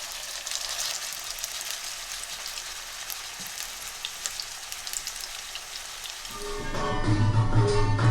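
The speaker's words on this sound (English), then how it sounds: "frying." Steady crackling sizzle of beef chapli kebab frying in oil, dense and continuous, with a low hum swelling in toward the end.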